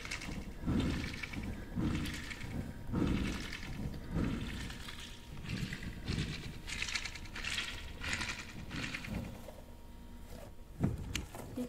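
A big water bead stress ball is squeezed over and over, giving wet, squishy crackles and rustles that pulse in repeated bursts, close and steady, with no voice.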